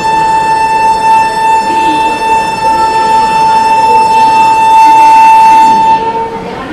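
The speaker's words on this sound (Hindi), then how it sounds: "अपनी जो ट्रेन है वो प्लेटफॉर्म नंबर 2 से खुल चुकी है" The New Delhi–Mumbai Duronto Express departs a station platform, with a loud, sustained train horn blaring over a continuous rumble of moving carriages, close and steady throughout.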